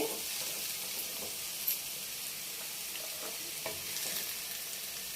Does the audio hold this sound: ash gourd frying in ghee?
yes